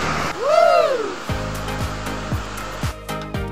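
Cortina Falls in Don Victoriano Chiongbian, Misamis Occidental, gives off a steady rushing roar of falling water, joined early by a brief whistling sweep and later by a few faint knocks.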